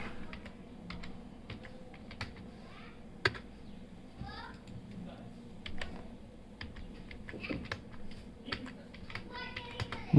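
Fingers type on a computer keyboard with uneven, fairly quiet clicks and short runs of keystrokes, close up, with soft background sound.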